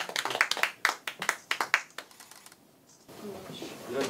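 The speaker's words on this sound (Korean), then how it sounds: "우리 박수만." An audience at an award ceremony claps in a short burst of sharp, distinct hand claps that fades out after about two seconds, giving way to quiet room sound and a speaking voice.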